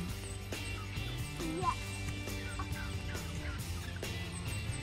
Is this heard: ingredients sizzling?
no